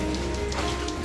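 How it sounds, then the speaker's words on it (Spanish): Water dripping inside an old underground water mine, a steady patter of drops falling close by over a dense, reverberant wash of trickling water, with no talk. "Aquí goteo."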